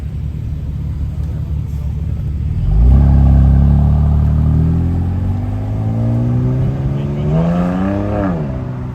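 A Mercedes-AMG 63 with a 6.3-litre engine and a Ferrari drive past on a road near Paris, engine rumble swelling loud and close, then rising revs as one accelerates away.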